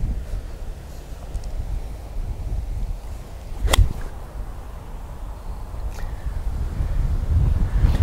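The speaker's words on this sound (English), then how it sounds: "the wind is ripping across here, 40 k's, guys, maybe more, straight across here" Strong wind, around 40 km/h, rips across an open golf practice area, roaring steadily into the microphone with gusts building toward the end and one sharp swish of a club in the middle.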